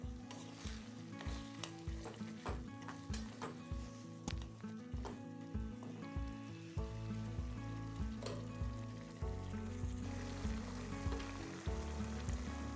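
Masala paste with a splash of water frying in a pan for a katla fish curry with drumsticks, sizzling steadily while a spoon scrapes and knocks in quick, regular strokes close up, with no one talking.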